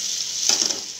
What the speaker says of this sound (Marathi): त्याच्यावर तेल तापले, आता जिरे घालायचे